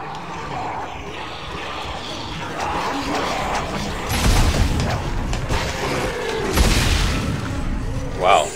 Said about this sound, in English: Got a new line gun.